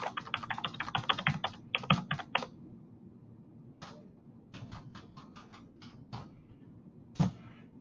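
Typing on a computer keyboard, with a rapid run of close, clicky keystrokes at first, then sparser taps after a pause and one final louder press, all heard alone without talk.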